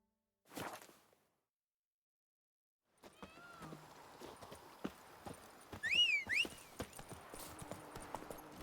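Roach the horse running in The Witcher 3, a brief whoosh, then a pause before fast hoofbeats clatter on the ground with faint cries and animal calls mixed in the background.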